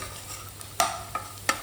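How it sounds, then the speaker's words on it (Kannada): Finely chopped onion fries in a pan for shavige bath, a quiet low sizzle broken by three sharp spatula scrapes spaced a little apart. No one speaks. "ಇವಾಗ ಇದಕ್ಕೆ 1 ಮೀಡಿಯಂ ಸೈಜ್ ಈರುಳ್ಳಿಯನ್ನು ಸಣ್ಣದಾಗಿ ಕಟ್ ಮಾಡಿ ಹಾಕಿ ಫ್ರೈ ಮಾಡ್ತೀನಿ"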